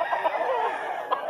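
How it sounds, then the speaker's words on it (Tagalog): Chickens at a pet market in Grotto, Bulacan, a short burst of soft, close clucks over a murmuring background. "Yan, mga manok ni boss."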